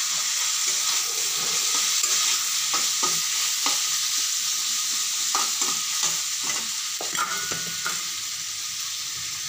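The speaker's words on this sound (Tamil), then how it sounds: "கட் பண்ணி வச்ச முள்ளங்கியை போட்டு" Radish pieces sautéing with onion and tomato in a pan, a steady bright sizzle with repeated scraping stir strokes, close and continuous with no talking.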